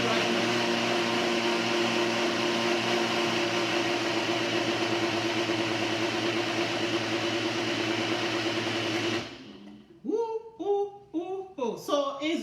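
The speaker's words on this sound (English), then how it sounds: "can I go do that with the blender right now?" Blender running steadily with pineapple and ginger juice, a loud continuous motor whine with strong harmonics for about nine seconds, then cutting off as a voice starts talking.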